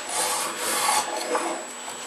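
Spokeshave shaving down an Osage orange bow stave, a short burst of continuous close rasping and scraping from the blade on the wood, with no voices.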